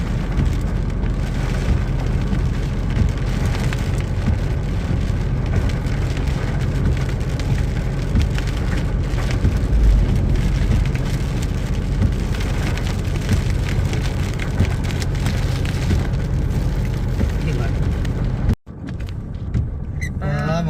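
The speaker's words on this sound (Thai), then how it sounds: "ระวังฝนตกมานี่" Steady heavy rain pours continuously, a dense hiss of drops on surfaces that cuts off abruptly near the end.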